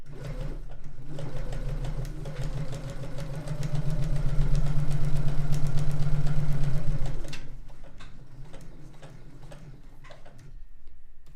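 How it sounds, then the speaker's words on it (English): A sewing machine runs at a slow, even pace, its rapid mechanical ticking louder in the middle, then slowing to scattered clicks near the end. "I was sewing very slowly there"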